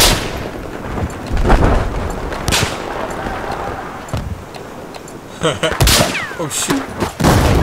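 Grenade launcher fire from an M32 MGL during a large Conquest battle on Siege of Shanghai in Battlefield 4, heard as scattered booms and gunfire bursts mixed with other battle noise while a player shouts in alarm.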